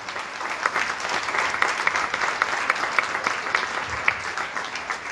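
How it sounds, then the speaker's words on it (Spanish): Dense audience applause fills a hall at a Paraguayan memorial event, steady and sustained throughout with many overlapping claps and no speech. "¡Fuerte los aplausos!"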